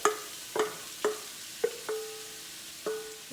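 Onions dropped into a pot of long-heated corn oil for a New York hot dog red onion sauce, giving several sharp sizzling bursts that hiss and fade, close and moderately loud, with no talking.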